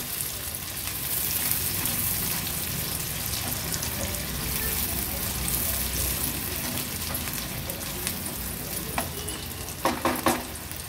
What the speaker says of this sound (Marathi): कांदा आता तेलावर छान आपल्याला शिजवून घ्यायचा आहे